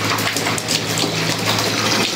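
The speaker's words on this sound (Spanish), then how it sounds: "Ahora vamos a observar el chorro. Tenemos un chorro medianamente alto." Water jet spouting from a pipe in a fluid mechanics test rig, a steady, fairly loud gushing rush with no break and no voices.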